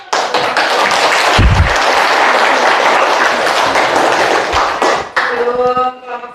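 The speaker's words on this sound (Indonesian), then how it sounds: "Beri aplaus." An audience at a school group presentation bursts into applause, a dense stretch of clapping with a few thumps, fading out toward the end as a voice begins talking.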